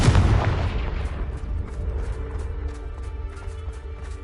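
A Confringo explosive spell goes off in a PS5 wizarding-school video game: a loud, deep boom opening the clip, then a rumbling tail that fades and leaves faint scattered ticks.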